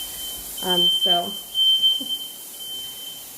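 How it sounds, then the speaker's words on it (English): A home smoke and fire alarm under test gives two short, sharp electronic beeps followed by a fainter third, shrill and close, while a person speaks briefly over them. "we're testing the fire alarms."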